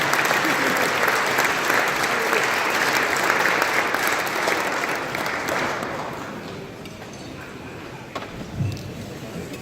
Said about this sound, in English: You can keep clapping while he's walking.